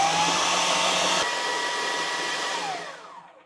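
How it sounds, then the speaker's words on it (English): A blender whizzes a banana ice cream mixture in one loud, steady whir that winds down and fades out near the end, with no talk. "So you just put the lid on and we'll just give this a quick whiz."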